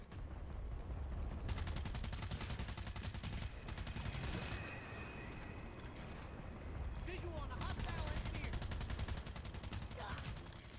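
Dense, rapid gunfire from the online shooter Planetside 2 rattles on almost without pause, loud and close, with brief gaps and sniper shots mixed into the steady volley of game combat.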